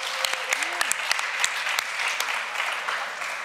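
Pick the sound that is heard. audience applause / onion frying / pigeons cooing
audience applause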